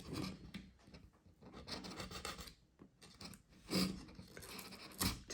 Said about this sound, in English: And now I'm gonna take my X-Acto knife.